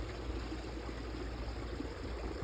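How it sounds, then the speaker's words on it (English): Water from a frozen koi pond waterfall trickles and cascades over ice in winter, a steady, soft, continuous rush that stays even throughout, with no voices. "You can see water cascading along the top of the ice,"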